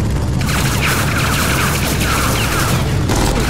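Dense gunfire crackles in the video game Tales from the Borderlands, a loud, continuous barrage of overlapping shots and impacts with no talking.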